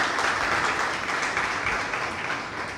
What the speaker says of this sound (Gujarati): એટલે એમના માટે તાળીઓ થઈ જાય.